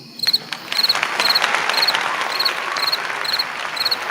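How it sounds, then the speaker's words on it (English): Crickets chirp in quick, regular pulses over a soft, steady background hiss, a continuous rhythmic trilling throughout. "But I got cricket sounds."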